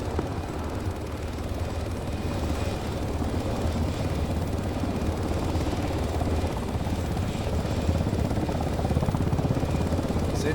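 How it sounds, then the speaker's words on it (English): Helicopter engine in a military shooter game, a steady loud rotor-and-turbine drone holding throughout with a faint voice briefly underneath. "Just get in the helicopter, my guy."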